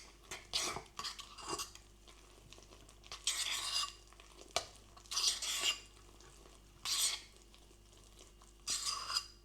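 Food mixed with cinnamon in a bowl, with a series of close clinking and scraping spoon strokes against the bowl in irregular bursts separated by short quiet gaps.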